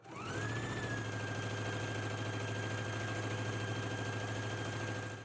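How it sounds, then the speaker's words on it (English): A sewing machine stitches a shirt collar seam in one steady run, its motor whirring at a constant pitch with a fast rhythmic needle clatter, close and uninterrupted after a quick start-up. "let's go ahead and stitch it in place now in a 5/8 of an inch seam allowance"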